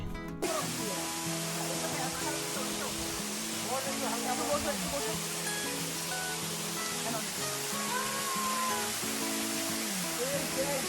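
A mountain waterfall in Sitakunda roars steadily and loudly throughout, its rushing spray filling the scene, while faint voices and calls are heard underneath.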